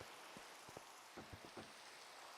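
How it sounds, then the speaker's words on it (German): Heavy rain pouring in a Minecraft jungle during a survival game, a faint steady hiss with a few soft droplet taps scattered through it. "Es regnet nicht nur, das schüttet."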